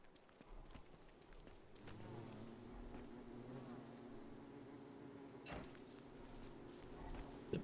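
A bee in the survival game Don't Starve Together buzzes steadily and faintly for several seconds, with soft scattered clicks and footstep-like taps in the background and no talking.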